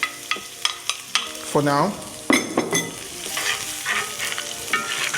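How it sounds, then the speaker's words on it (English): Chopped onion and celery sauté in a pot in an LG NeoChef microwave, with a close, steady sizzle, utensil taps and scrapes, and a short spoken phrase over the cooking. "I'm going to give that a quick saute at the moment."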